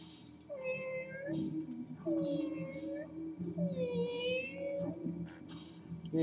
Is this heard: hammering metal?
no